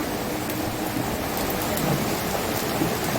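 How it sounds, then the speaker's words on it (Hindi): Steady rain pours outdoors near a mango tree, a loud, continuous wash of close hiss and splatter with no talking. "ये बारिश हो रही है, इतनी बढ़िया।"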